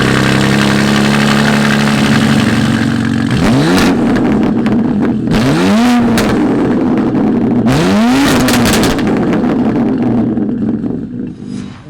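Modified BMW M2 with S58 twin-turbo engine, single mid-pipe and sports cat, idling then revved hard three times, each sharp rising blip falling back to a loud, close idle.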